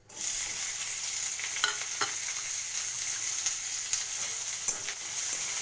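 Onions sizzle steadily in hot oil with a bay leaf and dried chilli for a prawn do-piyaza, a close, constant frying hiss broken by occasional soft stirring clicks.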